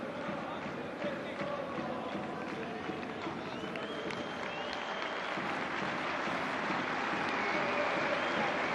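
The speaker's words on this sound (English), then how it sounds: "Gets the applause from the Celtic fans" Celtic supporters applaud during a reserves football match against Rangers at Ibrox, a broad, steady wash of distant crowd clapping filling the stadium air for several seconds with no clear voices on top.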